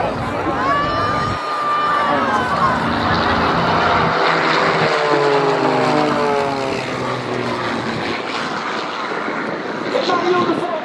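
A propeller airplane drones loudly as it returns to land at an airshow, its engine tone sweeping past near and steady, with crowd noise and cheering faintly beneath.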